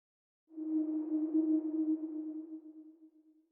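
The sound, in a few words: ping-pong delay effect from Echo Boy plugin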